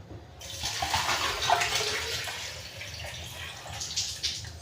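Water pours steadily into a cup of coffee with a continuous splashing rush, close and fairly loud, lasting the whole stretch.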